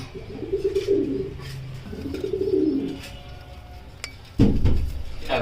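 Low, soft coos from racing pigeons come in a few rounded bursts, with a sharp clink and some handling noise near the end.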